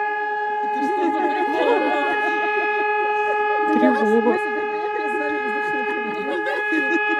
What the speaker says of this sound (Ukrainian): це справжня повітряна тривога